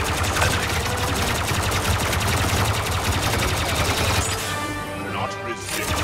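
Rapid blaster gunfire from a Star Wars Battlefront II heroes-versus-villains match featuring Phasma, a dense continuous burst of shots at close range with a brief voice mixed in, tailing into electronic tones near the end.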